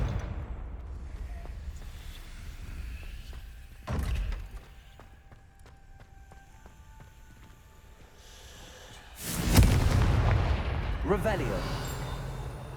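A Confringo fire blast spell cast in the Hogwarts Legacy video game, one short burst early and a louder, sustained fiery whoosh and rumble later, over quiet ambient game music without speech.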